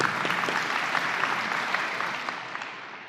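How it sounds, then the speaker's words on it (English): An audience at a pharmacy town hall session claps steadily, the dense applause rattling on for a few seconds and fading slightly toward the end. "I would like to ask my colleagues to join me to give you another big clap."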